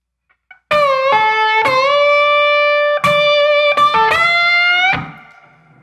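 Slide guitar in open E tuning plays a lick: sustained, gliding notes with smooth pitch slides, a few phrases rising and falling over about four seconds, clear and close with no talking.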